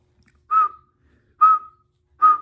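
A person whistles three short, clear notes, evenly spaced about a second apart, each one with a slight downward fall at its end, loud and close with silence between them.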